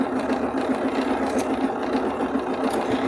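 Rapid, even mechanical chatter of a sewing machine stitching at an angle at full speed, close and continuous for a few seconds with no talking.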